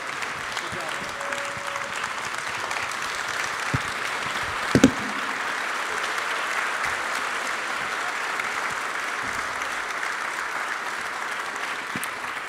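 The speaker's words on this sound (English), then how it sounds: "So again, big round of applause for two of the best governors in America, Abbott and Stitt." A large audience at an energy industry summit forum gives a long, steady round of applause for two state governors, dense continuous clapping with a few louder sharp claps, no talk.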